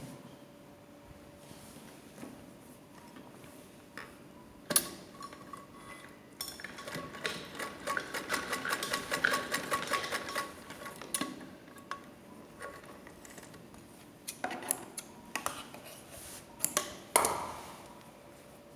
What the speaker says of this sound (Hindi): इसमें हम ऐसे सीधी सिलाई कर देंगे